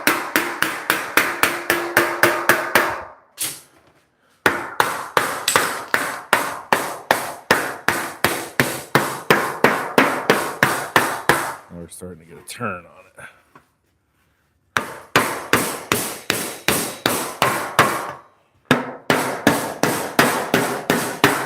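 Soft hammers shaping sheet metal on a 1938 Cadillac in a shop, struck in long fast runs of even, sharp blows with brief pauses between bursts, while someone talks at times.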